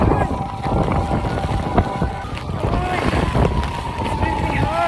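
Blustery wind buffets the microphone on a cold, rainy winter day outdoors in Jerusalem, making a loud, gusting roar with scattered patter and background noise.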